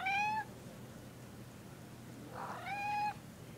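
A cat meows twice, a short call followed by a longer one after a pause, close by and clear against a quiet background.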